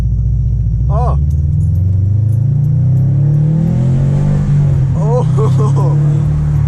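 A 2018 Subaru WRX STI with an aftermarket exhaust rumbles deeply and swells into a rev close by, its heavy burble steady throughout, while people briefly exclaim over it.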